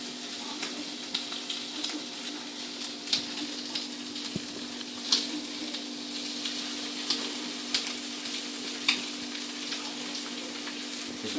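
Cakes fry on a griddle at full heat, giving a steady, fairly quiet sizzle with faint crackles and a few soft pops scattered throughout, and no voices.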